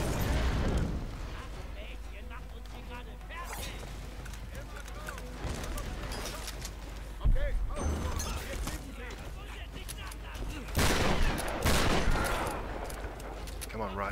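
Gunfire is aimed at the player in the 2013 Tomb Raider game. Dense bursts of shots and booming impacts continue throughout, with louder volleys in places, while someone talks over the fighting.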